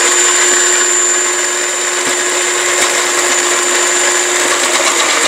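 An electric food processor chopping large onions: a steady, high motor whine with a constant tone, running alone without talk and with faint clatter from the blades.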